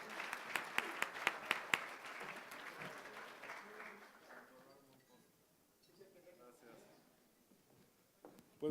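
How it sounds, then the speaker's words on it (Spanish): Applause from an audience greeting a speaker before his talk on tourism, fairly dense at first and then thinning out and fading, with talk coming in over the tail. "Recibámoslo con un fuerte aplauso."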